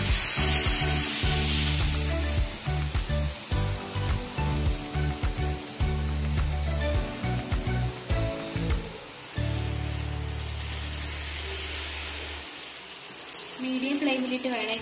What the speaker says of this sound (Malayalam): മീഡിയം ഫ്ലെയിമിലിട്ട് വേണം ഇത് ഫ്രൈ ചെയ്തെടുക്കാനായിട്ട്